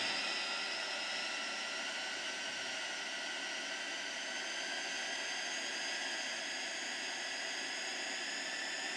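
Jet engine of a Boeing 787 in a flight simulator throttled up for takeoff, a steady, even roar with a rising high whine, continuous throughout with no talking.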